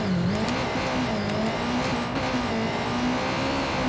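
Steady engine drone of a small hatchback resembling a Suzuki Swift driven in the video game Watch Dogs 2, a continuous near motor hum with a slowly wavering pitch and no talking.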